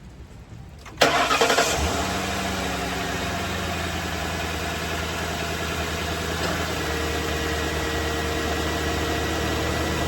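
A 2006 Mercury Grand Marquis engine cranks and catches about a second in, revs briefly, then settles into a smooth, steady idle that hums on close by, after a spark plug change.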